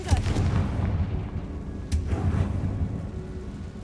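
Two heavy, booming explosions from a Confringo fire spell in Hogwarts Legacy, about two seconds apart, each with a rumbling tail.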